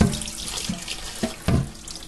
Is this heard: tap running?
yes